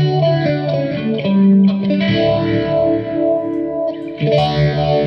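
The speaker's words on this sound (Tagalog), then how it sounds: "Maganda tunog ng phaser." Electric guitar played through the phaser mode of a Cuvave Cube Baby amp, sustained notes and chords swirling with a sweeping, chorus-like modulation, loud and close with no voices.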